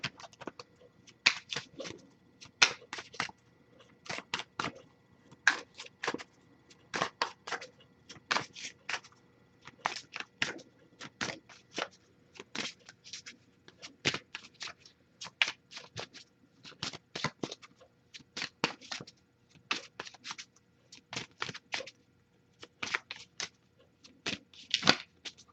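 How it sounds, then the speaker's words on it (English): A deck of tarot cards is shuffled over and over in close, crisp bursts of riffling and slapping, each burst separated by short pauses, in a quiet room. "if nothing comes up after I shuffle for a while"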